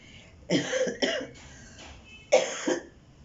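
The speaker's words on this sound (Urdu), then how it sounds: "مجھے بہت زیادہ کھانسی آ رہی ہے" Several harsh coughs from a person suffering a bout of coughing, in two close clusters with a pause between, fairly near and alone without talk.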